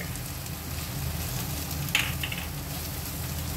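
Okra and potato with spices sautéing in a pan as chatpate bhindi aloo bhaji, giving a steady close sizzle with a soft stir scrape near the middle and no voices.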